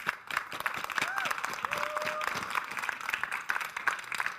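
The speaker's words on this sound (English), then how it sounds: "Please give them a great round of applause." Audience clapping for panellists after a Northern Power Women session at the Convention of the North, a moderate, uneven patter of hands fairly far back, mixed with voices and a brief tonal whistle.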